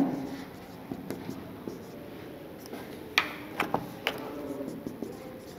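Writing on a board during a grammar lesson makes a string of soft taps and scratchy strokes against a quiet room hum, with clearer marker or chalk strikes in the middle.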